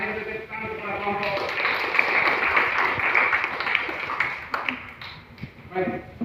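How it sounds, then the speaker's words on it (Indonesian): Classroom audience applauding a student discussion group during a teacher-training lesson: dense, steady clapping from many hands lasts several seconds, with a teacher's voice talking before and after it. "mari kita tepuk tangan kepada kelompok"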